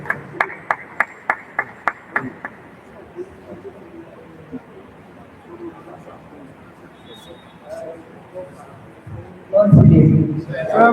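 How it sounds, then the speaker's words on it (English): Audience at an old boys' association annual convention breaks into a short burst of applause, sharp claps thinning out within a few seconds, followed by quiet room murmur and a louder thump near the end. "Can we give them a round of applause?"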